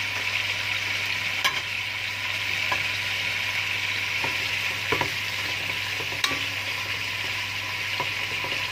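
Onions fry in a pot, a constant hissing sizzle with occasional sharp clinks and scrapes of a utensil stirring, close and fairly quiet, with no talking.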